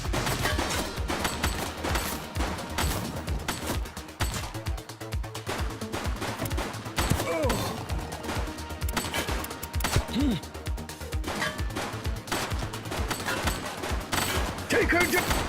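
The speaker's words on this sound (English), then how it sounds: "He's shooting!" Rapid, sustained gunfire in The Precinct, a police video game, with dense overlapping shots crackling through the whole stretch beneath voices and game sounds.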